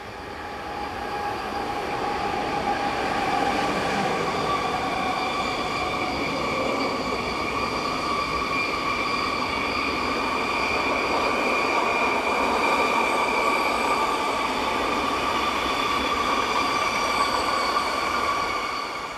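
Swiss passenger train on the Gotthard north ramp, headed by an Re 460 electric locomotive, rolls past steadily with a continuous rumble and rail hum, joined by sustained high wheel squeal and tonal whine from start to finish.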